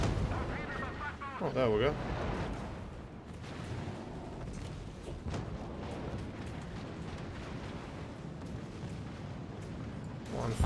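Heavy naval guns fire in a World of Warships battle, deep booming blasts rolling over a constant rumble of sea and engine noise, with someone talking briefly in the mix.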